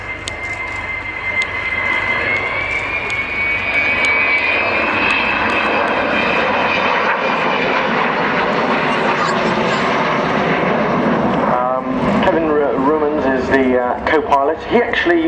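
The jet engines of an Avro Vulcan bomber roar loudly at the RAF Waddington air display, a sustained rumbling howl that swells and shifts near the end, with a commentator talking over it.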